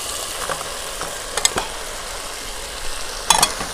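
Pakoda manchurian masala gets stirred in a frying pan over a soft sizzle, with a few sharp scraping clicks of a utensil against the pan near the start and again toward the end.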